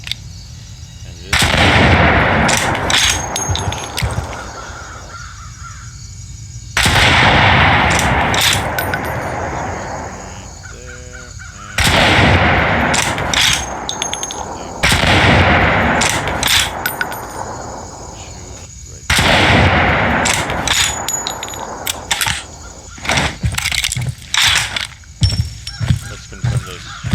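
Gunfire from a scoped weapon in the Roblox shooter HQFPS, loud bursts of rapid shots in several separate volleys with metallic clinks between them.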